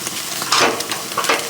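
Thick slab bacon frying and sizzling on a grill over fire as the pieces are flipped, a steady crackling hiss with two louder bursts of spitting, heard close with no talking.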